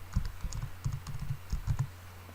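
Quick, quiet clicking keystrokes on a computer keyboard as a word is typed into a search box, in short irregular bursts with brief pauses.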